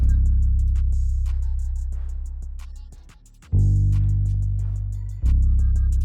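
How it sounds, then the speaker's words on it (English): A deep bass one-shot pattern in FL Studio, made gritty with Decapitator distortion, booms in long sustained hits that fade and then retrigger twice, loud and alone with a faint high ticking on top. "I added a little bit of distortion to it with Decapitator"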